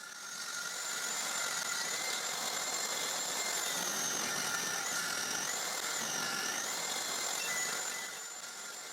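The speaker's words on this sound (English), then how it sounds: "I have to cut these pieces in two passes, and the truth is that I should move down the height of cut of the disc." A table saw with its blade height set high rips strips from a thick wooden plank, giving a steady, loud, continuous whine with a shifting pitch across nine seconds and no talking.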